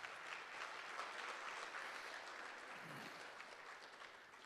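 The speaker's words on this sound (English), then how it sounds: "One more round of applause for the softball players." A crowd at a Tempe city awards ceremony gives steady, even applause for the softball players, faint and distant throughout, with no voices over it.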